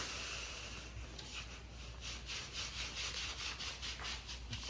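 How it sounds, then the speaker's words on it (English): Foam pipe insulation slid tightly down a wooden dowel while building a scooter stand, giving a steady, close scraping rub with repeated short strokes and no talking. "what I'm gonna do is just slide it over. See if I can get all the way down there."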